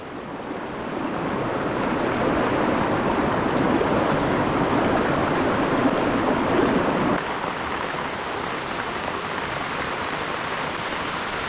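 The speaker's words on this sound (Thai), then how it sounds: "ฝนตกหนักเลยครับ ตอนนี้" Heavy rain pours down in a forest during a storm, a dense, loud, continuous rushing hiss that swells early and then eases slightly, with no speech.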